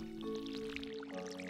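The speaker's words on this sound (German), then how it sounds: "dann gießen wir mal" In the Stardew Valley video game, a watering can sprinkles crops with soft, quiet splashing and dripping over a steady musical drone.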